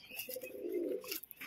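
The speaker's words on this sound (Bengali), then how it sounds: "এবং সব পায়রায় মোটামুটি খেলার পায়রা রয়েছে।" Domestic flying pigeons kept at a home loft give a soft, low cooing call lasting about a second, faint and nearby, with light background noise and no talk.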